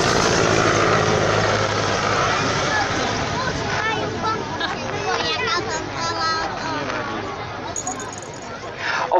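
A Mil Mi-171 helicopter at an air show in Nitra, its rotor noise a loud, steady broadband roar throughout with a constant low thrum, while crowd chatter murmurs underneath.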